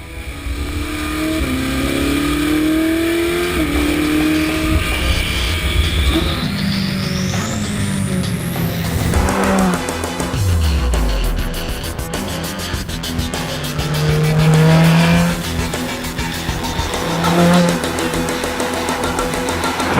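Ferrari 458 Speciale engine on the road, a loud continuous rev that climbs, shifts and drops through repeated gear changes, with tire noise and wind beneath the engine throughout.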